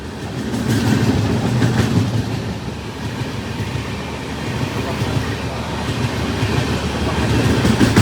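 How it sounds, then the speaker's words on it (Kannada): Varanasi–Mysuru Superfast Express passing a level crossing at Amruthapura, a loud, continuous rolling rumble with rhythmic clickety-clack of wheels over rail joints, swelling slightly toward the end, with a voice audible over it. "ಮೈಸೂರು ಸೂಪರ್ ಫಾಸ್ಟ್ ಎಕ್ಸ್ಪ್ರೆಸ್ ವಾರಣಾಸಿಯಿಂದ ಬಂದಿದೆ"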